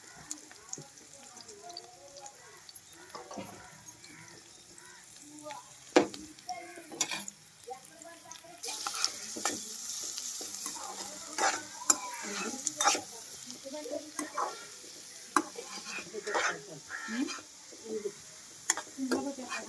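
Sliced onions and green chillies sizzle softly in oil for a snail and green gram curry while being stirred, with intermittent scraping and clatter of a spoon against the pan and people talking over the cooking.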